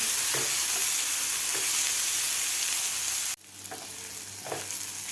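Chopped onion and tomato sizzle steadily in a hot pan for a paneer curry, a close, even frying hiss that drops abruptly partway through into a quieter crackle with a few stirring scrapes.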